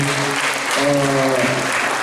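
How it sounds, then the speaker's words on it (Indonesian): Brief applause from an audience thanking presenters at a youth alliance gathering, steady clapping with a voice faintly speaking or humming beneath it. "kita berikan tepuk tangan yang meriah kepada pemateri dari bapak-bapak ibu"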